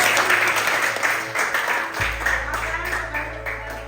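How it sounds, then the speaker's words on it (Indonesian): A class claps for a student after a hikayat story is told, a steady patter of many hands that keeps going at a moderate level, with a low hum in the background. "Luar biasa, berikan tepuk tangan"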